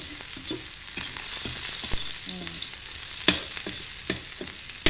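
Garlic stir-frying in oil makes a continuous sizzle up close, broken by scattered ladle clicks and scrapes against the pan, with no talking.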